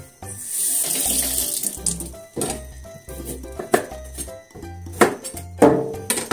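Tap water runs into a kitchen sink while a small carrot is washed for simmered hijiki, a steady close splashing stream with brief clinks of dishes and changes as the carrot moves under the flow.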